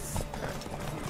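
Horse hooves clatter in quick clip-clop beats at the start of a horse race in The Witcher 3, close and moderately loud over a low rumbling game ambience.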